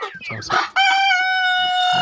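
Backyard chickens cluck in short bursts, then a rooster lets out a loud, close, sustained crow that carries to the end; a voice is briefly heard at the start.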